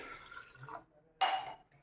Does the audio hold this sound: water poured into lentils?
yes